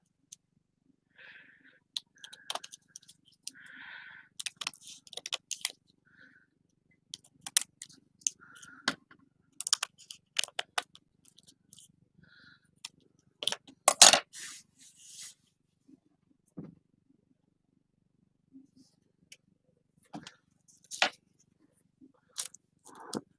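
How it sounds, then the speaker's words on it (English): Scissors trim paper for homemade DIY tickets in short, close snips and scrapes, scattered irregularly across a quiet background, with brief pauses between cuts. "Then I'll take my scissors and I'll trim again."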